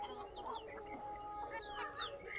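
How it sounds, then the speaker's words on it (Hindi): Desi roosters and chickens on a farm give a run of short, close clucks and chirpy calls, several overlapping bursts over a quiet background. "मुर्गे देखो मेरे कितने तंदुरुस्त मुर्गे देखो आप"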